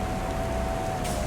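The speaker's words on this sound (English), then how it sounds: "Right, okay, so it's still raining." Steady rain falls in Farming Simulator 25 on a UK farm map, a constant even hiss with a faint thin tone running through it.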